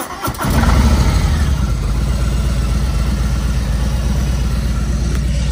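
A stock 2020 Harley-Davidson Road Glide Special with a 114 engine and Stage 2 setup runs on a dyno after starting up, giving a loud, steady, deep V-twin rumble that holds close and constant throughout.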